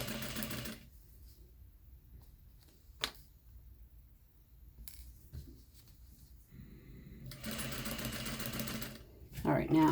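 Sewing machine stitching near a zipper on a pillow cover, running in bursts with a steady mechanical hum, then quiet stretches with light handling noises, and a louder run toward the end.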